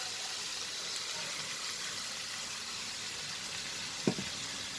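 Broccoli frying in a pan before tomatoes go in, giving a steady, even sizzle that hisses continuously, with a single soft knock near the end.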